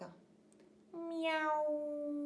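A human voice mimics a cat's meow with one long, rising-then-falling mew that follows a brief quiet breath, clear and close with nothing else around it.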